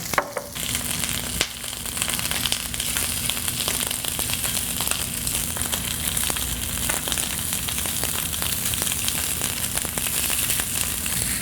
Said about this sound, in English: Little sizzle is what you want to hear. Shrimp cook really quickly.